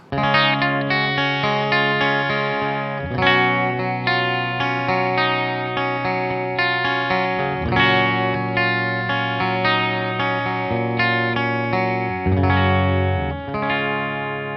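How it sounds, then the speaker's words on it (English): Clean Telecaster electric guitar strumming chords through a Marshall DSL-40 tube amp, steady and fairly dry, with bright ringing notes and no voices. "Here's my clean sound running through my Marshall DSL-40. I'm playing my standard Telecaster."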